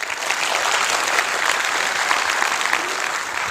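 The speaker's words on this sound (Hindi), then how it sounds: "तालियां होनी चाहिए" An audience at a motivational talk breaks into loud, sustained applause, a thick, even wash of many hands clapping at once without pause.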